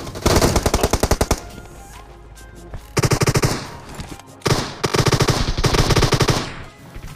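Loud, close automatic gunfire from the video game BGMI rips out in rapid bursts, with short pauses between several long volleys.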